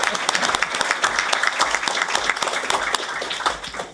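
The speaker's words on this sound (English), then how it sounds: "We can clap for him again." A room of people clapping together at a school board of education business meeting, steady dense applause for several seconds that tapers off near the end.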